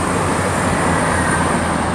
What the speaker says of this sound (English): I hear a train. Yeah, comes a train.